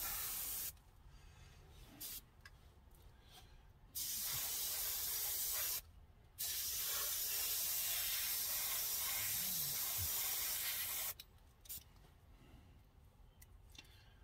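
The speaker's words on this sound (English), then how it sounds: "make sure to overlap on my sprays." An airbrush sprays Testors bottle enamel paint onto a scale model car body in long, close, steady hissing bursts separated by short pauses, with no talking.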